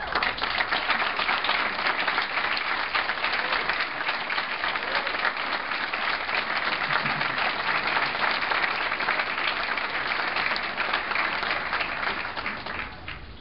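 Sustained applause from a ceremony audience for classmates at a white coat ceremony, a dense, even wash of many hands clapping for the whole stretch with no talk on top.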